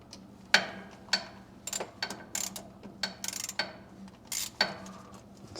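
A 7mm socket on a ratchet loosens a small screw on a Precision Matthews PM-1228 lathe during a DRO install, giving a close, irregular series of sharp metallic clicks and ticks in a quiet shop.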